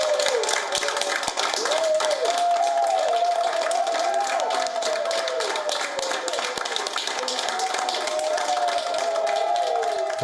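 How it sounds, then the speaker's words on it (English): Hospital staff at an NHS hospital in Coventry applaud a vaccine recipient as she steps out of the ward, steady crowd clapping and cheering under voices, with a melodic tone wavering above throughout. "Staff at the NHS hospital in Coventry received her with a thunderous applause"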